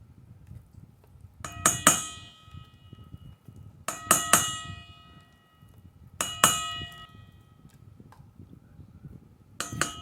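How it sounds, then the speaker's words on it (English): A farm dinner bell clangs in quick bursts of several strikes, repeating roughly every two seconds with bright, lingering ringing tones between them. "That might even be the dinner bell ringing."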